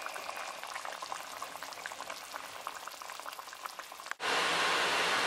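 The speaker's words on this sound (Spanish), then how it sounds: "le ponemos un poco de caldo de pollo y dejamos a que se hierva a fuego medio" Chicken broth boils over medium heat in a pot, giving a dense, steady bubbling that cuts off abruptly near the end into a flatter hiss.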